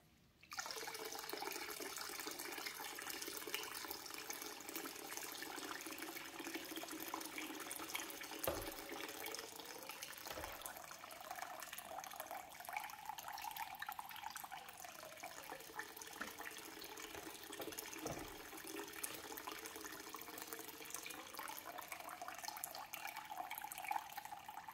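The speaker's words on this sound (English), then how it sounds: "I'm now just going to rinse the conditioner from Hobby here" Running water rinses conditioner out of a man's hair, a steady broadband shower or tap flow lasting throughout, close and continuous with a few brief knocks, no talking.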